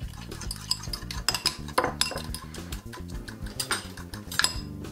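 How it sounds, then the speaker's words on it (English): A fork clinks and scrapes through chicken Caesar salad in a bowl, mixing with a rapid, irregular run of close metallic taps and rustles. "With the fork, let's give it a nice mix."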